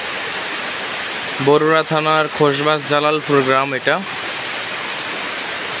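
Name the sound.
heavy rain on a village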